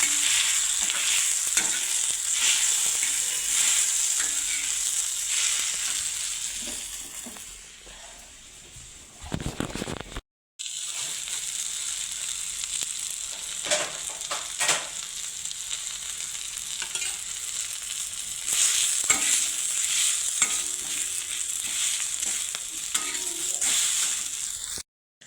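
Ground masala spices with turmeric roasting in a little oil while a spoon steadily stirs and scrapes the pan, a continuous close sizzle with a brief pause midway and no talking.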